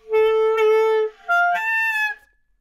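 A woodwind from a beginner clarinet and saxophone lesson plays two notes that come out too high from air in the mouth, each held about a second with a short break between, the second bending slightly, alone and close.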